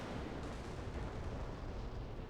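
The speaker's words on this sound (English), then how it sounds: "I do want to see if this autocannon attacks torpedoes" Sustained, dense rumbling bursts of an autocannon firing at torpedoes in a naval video game event, loud and continuous with no pauses or talk.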